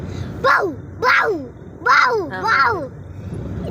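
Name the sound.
voice imitating a dog barking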